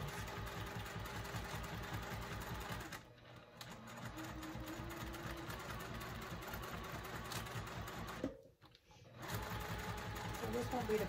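A sewing machine runs steady top stitching on a tote bag at a 2.5 stitch length with light presser-foot pressure, a close continuous rhythmic whirr broken by two brief pauses, with talk over it.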